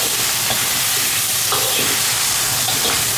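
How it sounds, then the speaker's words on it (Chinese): Pickled mustard greens with scallion, ginger and garlic stir-fried in a wok over fried fish bones, giving a steady loud sizzle with scraping stirs throughout. "酸菜下锅，稍微煸炒一下。"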